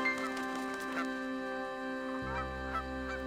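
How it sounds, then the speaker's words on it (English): Giant Canada geese honk repeatedly over a steady harmonic drone, with several loud calls close together near the start and a few more toward the end. "Our geese are home again."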